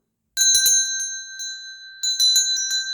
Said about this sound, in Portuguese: Já acionou o sininho das notificações?